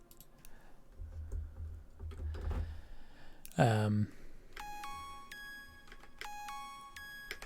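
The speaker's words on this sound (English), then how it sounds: "Very dry, kind of just bell-like sound. Very dreamy." Dry, bell-like synth tones chime in short repeated patterns after a few clicks and a brief sweeping blip, fairly quiet.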